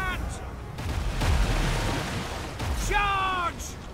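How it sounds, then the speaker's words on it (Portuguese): Battle sounds from the strategy game Total War: Warhammer 2, with booming artillery-like blasts and a tank explosion rumbling under gunfire, while someone talks over the din. "Deixa eu acertar a explosão do tanque"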